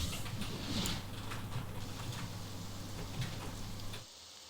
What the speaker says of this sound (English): I have to fix that ugly rain.